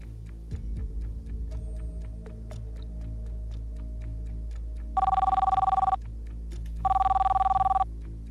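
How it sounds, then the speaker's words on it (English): Telephone rings for an incoming call on a crypto game show, two loud electronic ring bursts of about one second each, separated by a short pause, over a low steady hum. "All right, Dominic's calling in"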